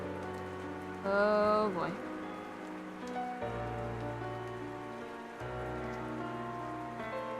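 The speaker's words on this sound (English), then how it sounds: "Most of the deluge is over" Rain falls steadily in the video game Rue Valley, a soft continuous patter with game music tones layered over it and a brief spoken exclamation early on.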